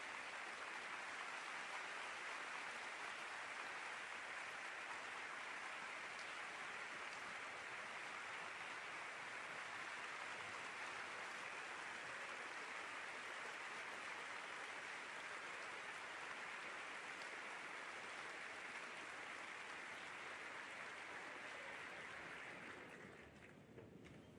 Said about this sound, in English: please give a warm round of applause to PFC Sheridan for his sacrifices and service